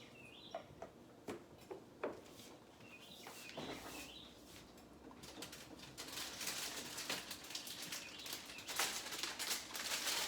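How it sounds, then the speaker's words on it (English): Birds coo and chirp outdoors, a dove's soft repeated coos and scattered tweets rising over a faint background, fairly distant, with a steadier hiss of chatter building in the second half; no talking. "Y'all hear those birds chirping?"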